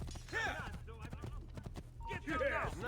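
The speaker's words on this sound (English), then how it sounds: "How about I get on a horse?" Horse hooves in Assassin's Creed, clip-clop steps with a whinny, heard beneath talking over the game sound.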